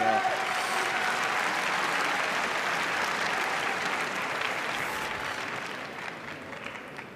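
An arena audience at a karate world championship kata event breaks into a dense, sustained round of clapping that tapers off gradually.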